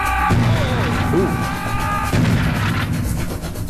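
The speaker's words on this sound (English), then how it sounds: "Some nice explosions" In the video game Serious Sam HD: The First Encounter, explosions and heavy weapon fire boom continuously and loudly over sustained in-game tones, with no clear pauses.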